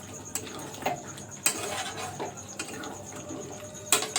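Chicken skin and legs being stirred in a cooking pan, with a few sharp utensil clicks and scrapes against the pan spaced irregularly over a soft, steady sizzle.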